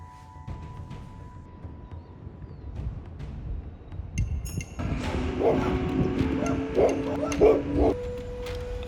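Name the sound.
street dogs barking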